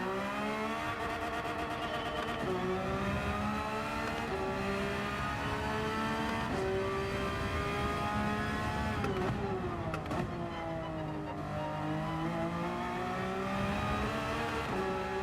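A Porsche race car engine in Gran Turismo 7 revs hard and continuously, its harmonics climbing and dropping through gear changes and braking over fifteen seconds, loud and close, with no talking.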